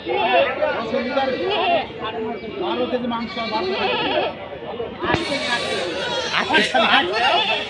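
Goats, including Beetal goats, bleating repeatedly among a crowd at a livestock market, with talking and babble of traders mixed in throughout.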